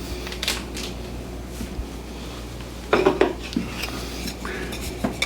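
Dry noodles go into a pot of boiling water for ground beef stroganoff, giving a short clattering rattle about midway over a steady kitchen background, with no talking.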